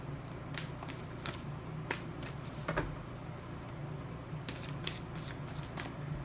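Tarot cards are shuffled for a reading, a series of soft, close riffling and flicking bursts with quiet papery snaps, faint and heard alone.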